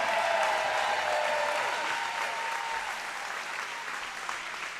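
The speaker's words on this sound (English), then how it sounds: "let's give it up for all of our volunteers who make all this possible" Crowd applause for volunteers at a roller derby home team championship bout, a broad steady wash of clapping that slowly thins toward the end, with no talk over it.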